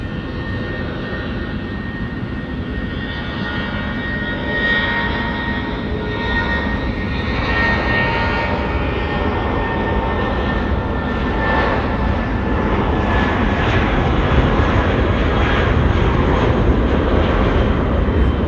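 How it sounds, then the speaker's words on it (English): Jetstar airliner rolling for takeoff on runway 23 at Auckland Airport, a steady loud jet engine roar that swells gradually as it accelerates, with no talk. "Jetstar 241 now, rolling runway 23"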